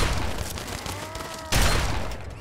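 Gunfire in the video game Fallout 3, a few sharp reports with a louder, heavier blast near the end, set against a steady noisy background without speech.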